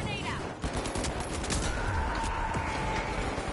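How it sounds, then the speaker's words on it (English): An automated turret in the video game The Finals fires rapid bursts of gunfire, a dense crackling fusillade over several seconds amid game effects and a player's voice. "Oh, it's a turret."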